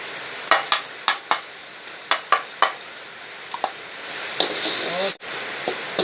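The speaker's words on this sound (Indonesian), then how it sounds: "Kemudian kita tumis bumbu yang kita cincang tadi ya" Chopped garlic and bird's eye chili stirred in a pan for fried chicken noodles, with sharp metallic clinks of a utensil against the pan in quick bursts over a faint steady sizzle.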